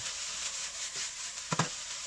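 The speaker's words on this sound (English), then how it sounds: "and continue stir frying." Soft sizzling of bean sprouts and noodles stir-frying in a pan for lo mein, with a couple of quick clattering stirs near the end; no voices.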